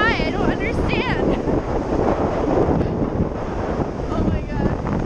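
Strong wind in the Icelandic countryside roars and buffets the microphone in a steady loud rush, while a voice talks over it near the start.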